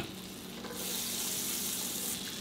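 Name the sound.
butter sizzling in a hot frying pan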